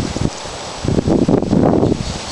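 Wind gusting outdoors at a homemade ceiling fan wind generator, close rumbling buffets against the microphone that swell and roar after a brief lull.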